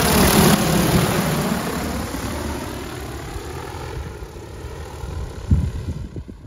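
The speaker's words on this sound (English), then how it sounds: "we're going to be seeding it with a drone" An agricultural drone seeding rice holds a steady, loud motor drone close by that slowly fades, with a short thump near the end.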